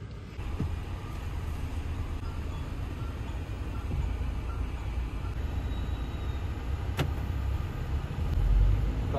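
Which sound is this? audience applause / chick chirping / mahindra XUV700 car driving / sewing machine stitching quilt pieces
mahindra XUV700 car driving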